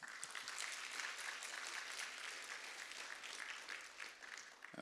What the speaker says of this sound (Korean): 우리 아델포스 대학생들 격려하며 박수 한번